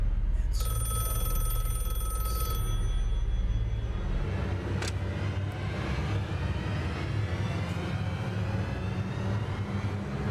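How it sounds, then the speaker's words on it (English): A telephone rings indoors, a bright electronic trill that repeats for about two seconds and then stops, over a steady low hum. "Answer the phone, James."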